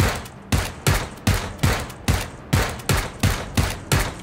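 Rapid bursts of gunfire from a shooter video game such as PUBG or Fortnite, about ten sharp loud shots in a steady rhythm, each with a short decaying tail, with no talking.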